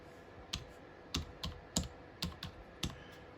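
Someone types a search into a web browser on a computer keyboard, about eight quiet, close keystroke clicks in an uneven rhythm.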